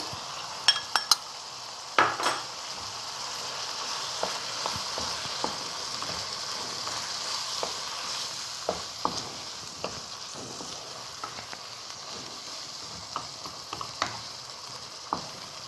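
Tomatoes sizzle with yogurt in a pan of keema made with whole spices, a steady soft frying hiss broken by occasional clinks of a spoon against the pot.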